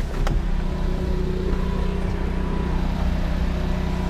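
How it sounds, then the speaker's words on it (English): A generator on a 2018 Mercedes-based Thor Freedom RV hums steadily and close, a constant low drone with mechanical tones that holds level throughout, with no talk. "We have the generator running right now."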